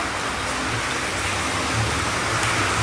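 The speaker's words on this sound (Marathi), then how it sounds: "लय मोठा पाऊस पडायला लागलाय आवाज येत असेल" Heavy rain pours steadily outdoors during a power cut, a loud, continuous broadband wash of falling water with no voices over it.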